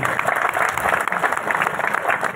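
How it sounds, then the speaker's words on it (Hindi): A crowd at a BJP rally in Kukshi claps steadily and densely to welcome the party's state president, VD Sharma. The applause is loud and sustained with no breaks. "माननीय प्रदेश अध्यक्ष का करतल ध्वनि से अभिनंदन करेंगे"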